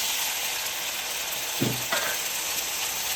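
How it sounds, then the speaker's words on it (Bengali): Chopped tomato with ginger and green chilli paste hits hot oil in a pan with the fried potatoes, a constant bright sizzle broken by a short scrape or two of a spoon. "এরপর আমি কেটে রাখা টমেটোটা দিয়ে দিচ্ছি এরপর আমি অ্যাড করব আদা আর কাঁচা লঙ্কা বাটা"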